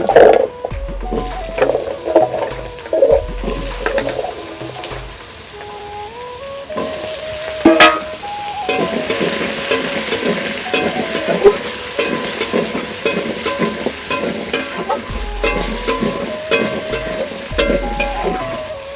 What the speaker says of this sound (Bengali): আলুটা তেলে ভালো করে সমরে নিচ্ছি